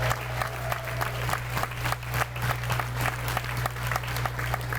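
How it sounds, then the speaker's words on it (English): An audience at a veterans' housing event in Tampa gives a round of applause, dense clapping holding steady for several seconds over a low hum in the hall. "I want to give him one more round of applause."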